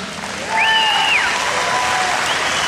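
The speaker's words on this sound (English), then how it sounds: "Do I get an applause?" An audience breaks into applause during a humorous talk, with clapping swelling in after a brief quieter moment and continuing steadily while a faint tonal whistle glides over it.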